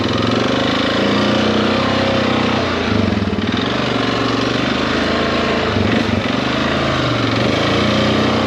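A Honda ATV engine on aggressive 31-inch Outlaw mud tires labors and bogs, a loud, steady low rumble that dips and strains without revving freely, running continuously close by.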